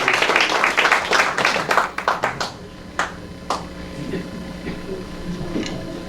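Audience applause at a forum in Busan welcoming a film director, a dense burst of clapping that thins into scattered claps and fades, fairly loud and close.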